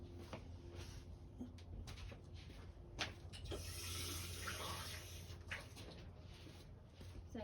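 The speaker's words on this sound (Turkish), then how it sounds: "yeni diktiklerime su koyacağım" Water being poured into a pot of freshly planted succulents, a soft continuous trickle and splash over low background hum, faint and indoors, with some handling knocks.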